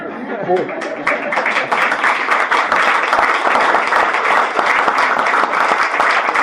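An audience applauds continuously and loudly throughout, a dense steady clapping with a brief voice at the very start and some laughter mixed in.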